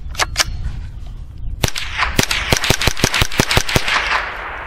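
Rock Island TM-22 rifle firing CCI rounds outdoors: two early shots, a pause, then a rapid string of about ten sharp cracks in quick succession, loud and close.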